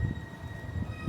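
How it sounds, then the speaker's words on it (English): Train pulling out of Town Green station bound for Liverpool Central, a low rumbling rhythm of wheels and motors with a faint steady whine above, heard from the platform without talk. "We'll see this train out"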